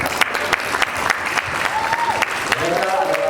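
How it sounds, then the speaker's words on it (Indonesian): Applause for a newlywed couple at a church wedding blessing, steady clapping from the gathered guests with voices calling out over it. "Kita boleh memberikan tepuk tangan buat mereka."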